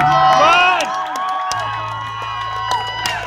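Small crowd at a Mightyman strongman event cheers and whoops for a competitor flipping a heavy tire, with shouted encouragement and excited voices mixing together at close range, steady throughout.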